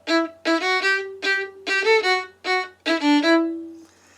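A violin plays the opening phrase of a film theme, a series of clear, close, bowed notes in short separated groups ending on a longer held tone.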